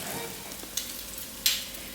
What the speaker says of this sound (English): So it's sizzling away on medium high.